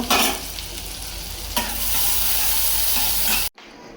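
Cabbage fries in a pan with a loud, continuous hiss and crackle, a sharp stirring scrape partway through, before the sound cuts off abruptly near the end; no one speaks.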